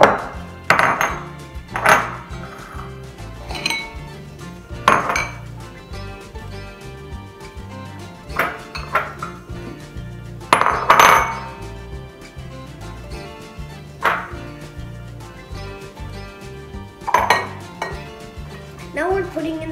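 Cookie dough for colorful Ramadan cookies being mixed in a bowl, with repeated clinks and scrapes of a utensil against the dish in an irregular rhythm, close and moderately loud.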